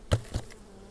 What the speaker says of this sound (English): we'll just shake some of the bees off.